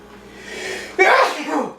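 A single sharp sneeze, close and loud, preceded by a brief intake of breath.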